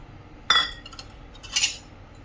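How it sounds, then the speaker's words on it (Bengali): A spoon clinks twice against a metal pot as milk with lemon-flower water is stirred so it splits into chhena, two short bright knocks over quiet background. "এটা এরকম করে হিলাতে হিলাতেই দেখতে হবে যে দুধটা ছানাটা কেটে গেছে"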